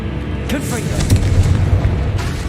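Confringo fire spell cast in Hogwarts Legacy, a booming blast with crackling burst layered over game music and battle noise, loud and close for about two seconds.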